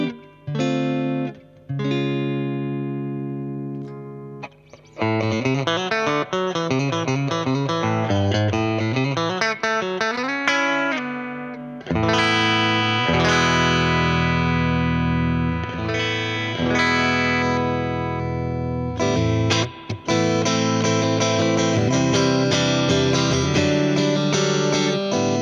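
Clean electric guitar played through a Harley Benton Tube15 or Tube5 tube combo amp, sounding chords and melodic runs alone, close and steady for about 25 seconds with brief pauses.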